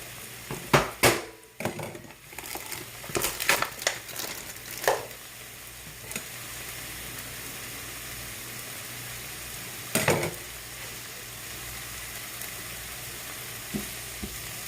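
Food browns in a pan with sofrito, a steady sizzle and fry carrying on throughout, broken by a few clanks and scrapes of a utensil against the pan near the start and middle.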